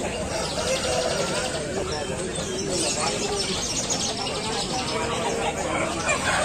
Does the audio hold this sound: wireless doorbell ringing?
no